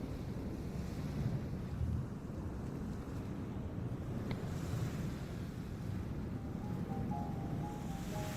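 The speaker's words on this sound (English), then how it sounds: "The gentle sound of waves wafts through the open doorway and stirs the lightkeeper awake" Gentle ocean waves wash in a continuous soft roar by an open doorway near a lighthouse, steady and fairly faint with wind rumbling underneath.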